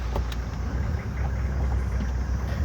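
Safari vehicle driving through Murchison Falls National Park in Uganda, a steady low engine rumble and road noise running close and continuous throughout, with no talk.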